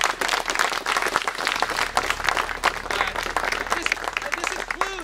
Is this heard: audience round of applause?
yes